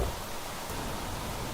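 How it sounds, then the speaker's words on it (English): Rain falls in the video game Planet Crafter, a steady, even hiss that holds for the whole stretch with no other sounds. "Sounds like it's raining."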